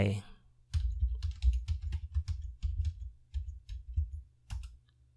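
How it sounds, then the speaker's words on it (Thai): Fast, uneven key presses on a computer keyboard while typing text in Xmind, close and crisp, with short pauses between bursts of clicks. "ก็คลิกไปที่ ชื่อเรื่องของคอร์ส กดปุ่ม insert พิมพ์ข้อความลงไป"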